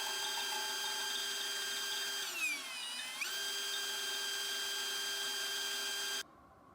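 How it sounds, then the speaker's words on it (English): A power drill bores holes through a Fab Fours stubby steel bumper on a Jeep JL, running steadily and close with a strong whine that dips in pitch briefly mid-cut before cutting off abruptly. "I'll finish out drilling that"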